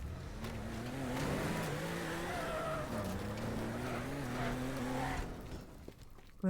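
Vehicle driving in the video game Teardown, a steady revving car engine with tire skids, running loud and continuous for about five seconds before cutting off into quieter debris noise.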